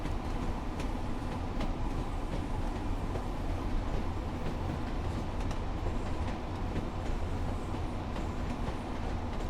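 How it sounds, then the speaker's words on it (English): A Pacer train runs on the Peak Valley Line in Train Sim World 5, giving a steady rumbling rail drone with faint clicking, heard alone at moderate level. "so hopefully you should hear the train in the background now"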